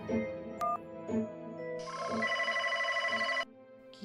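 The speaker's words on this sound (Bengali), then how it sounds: "ফোন তো বেজে যাচ্ছে, ফোনটা ধরছে না কেন?" A telephone rings unanswered, a bright electronic ring tone sounding in short bursts and then one long stretch, close and clear with no talk over it.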